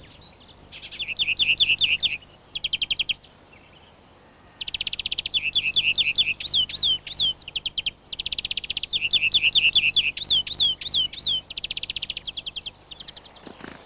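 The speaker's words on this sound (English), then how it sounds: "The greenfinch's song can also be heard sometimes during flight." A greenfinch sings a bright, rapid series of twittering trills in repeated phrases, clear and close, with a short pause early on and no other voices.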